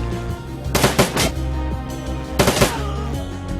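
Automated turrets in the video game Shadowrun Dragonfall fire two rapid bursts of gunfire over steady background game music, each burst lasting about half a second.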